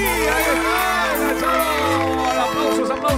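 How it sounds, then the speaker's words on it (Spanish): A crowd at a live music show in Corrientes cheers and whoops loudly and continuously, a dense roar of voices with music and an announcer's voice mixed in. "¡Aplausos, aplausos, aplausos,"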